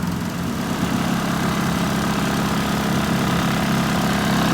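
A VW Scirocco 1.8T 20v four-cylinder engine idles with its revs held slightly raised, a steady, close, uninterrupted hum with a low throb and a faint rattle.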